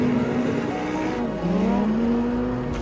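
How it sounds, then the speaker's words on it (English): Lamborghini Huracán Sterrato with a naturally aspirated V10 engine driving in the desert, a loud, close, continuous engine drone whose pitch dips and then climbs again as it revs. "we have a naturally aspirated V10 engine"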